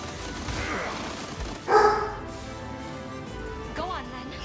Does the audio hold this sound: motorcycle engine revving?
no